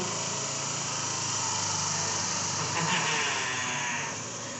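A small engine drones steadily nearby, a buzzy high-pitched motor running continuously with a slight rise near the end.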